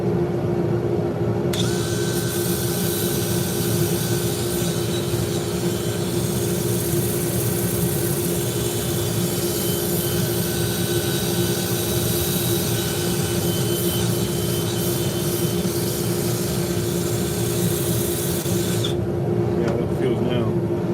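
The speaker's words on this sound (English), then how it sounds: "that was just rough sanding there with an 80 grit" A wood lathe spins a bowl during rough sanding with 80 grit paper, giving a loud, steady whirring hum with a constant abrasive hiss that runs unbroken for most of the stretch before cutting off.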